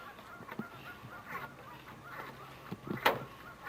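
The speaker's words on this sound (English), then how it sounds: "Look at all the ducks out there. Look at the thousands of ducks." Ducks calling on open water in Alaska, scattered honking and quacking calls at a moderate distance, with one louder, sharper call standing out near the end over faint outdoor background noise.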